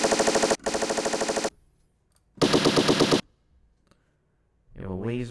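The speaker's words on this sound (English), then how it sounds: "Machine gun." Rapid machine-gun bursts from a sound-effect app on a Bismark bs-16i drum pad, two loud rattling volleys with a pause between, followed by a short voice speaking.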